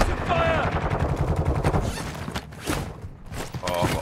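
Rapid automatic gunfire from a first-person shooter video game, loud and dense, with repeated bursts and shots throughout, while players' voices talk over the action.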